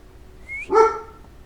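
A house dog gives a high whine that rises into one loud, close bark, then the room falls quiet.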